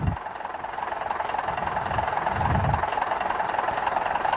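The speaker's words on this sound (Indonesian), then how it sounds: "starter menyala dan suara engine-nya kayak gini guys." A large Scania K410 IB diesel bus engine in the video game Bus Simulator Indonesia idles steadily with a low, throbbing rumble and faint knocking, continuous and close, with no talking.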